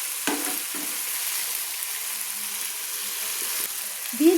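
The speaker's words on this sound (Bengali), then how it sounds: "দিয়ে ভালো করে সজনে ডাঁটা, আলু মশলার সঙ্গে আবারও আমি কষিয়ে নিচ্ছি" Moringa drumsticks stir-fry with potatoes and spices in a pan, giving a steady, close sizzle with a few stirring scrapes.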